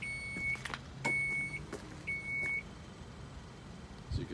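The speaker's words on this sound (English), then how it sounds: "This does have the power lift gate." Power lift gate on a 2018 Dodge Grand Caravan SXT, three short repeated electronic beep tones with a motor hum beneath, followed by a faint thud near the end.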